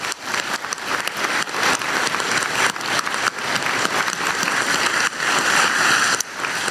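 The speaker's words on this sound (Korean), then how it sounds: "우리 두 분께 박수 한번 드리고 싶습니다." An audience in Gwangju applauds two officials at a public investment announcement, a dense, loud, continuous clapping that fills the room for several seconds and swells slightly near the end.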